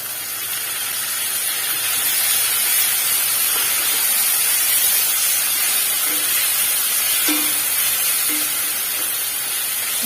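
Chopped tomatoes hitting browned onions in a hot pan for chicken gravy, a loud steady sizzling hiss that holds evenly throughout, close up and with no voices, a few faint clinks near the end.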